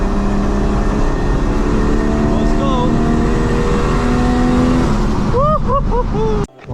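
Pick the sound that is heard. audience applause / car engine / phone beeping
car engine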